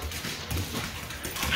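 A puppy whimpers and whines from behind a door, close and fairly loud with short breathy panting sounds, no talk over it.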